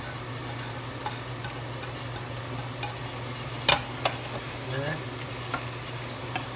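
Carrots stir-fry in a pan for Korean ground beef bulgogi, a soft, steady sizzle broken by scattered clicks of a utensil against the pan and one sharper knock, all fairly quiet and close with no talking.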